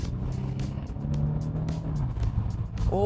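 Engine noise inside a Genesis G90 rising as it speeds up, a steady low rumble with a short whining rev at the end.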